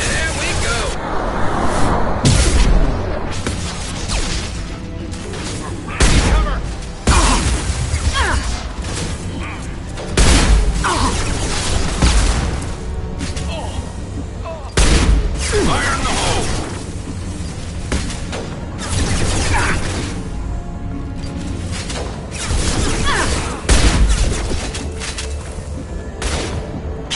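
Weapons fire in Mass Effect 2 during a combat mission: repeated sharp gunshots and heavy booms break out every few seconds over steady background noise, with voices talking throughout.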